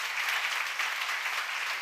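An audience claps steadily at a church seminar in a dense, even wash of applause that holds at a moderate level throughout.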